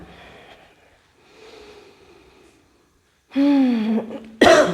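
Coughing and throat clearing from a yoga instructor recovering from a cold, during the final relaxation of a session: quiet breathy sounds, then a loud harsh cough burst and a sharp final hack, close up.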